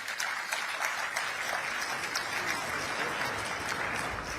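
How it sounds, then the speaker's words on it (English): Sustained audience applause fills a COP28 climate summit hall in 2023, a dense, even wash of many hands clapping at steady volume throughout, with no voices over it. "I think this deserves a round of applause in itself."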